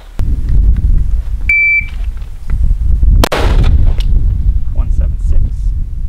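Single sharp, very loud gunshot at an outdoor shooting range, preceded by a brief electronic shot-timer beep, amid windy background noise and occasional voices.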